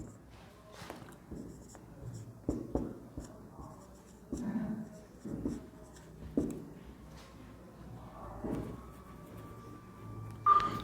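A pen scratches and taps on paper during a physical science lesson. Close, soft strokes come in irregular bursts, with faint room noise and a quiet voice underneath.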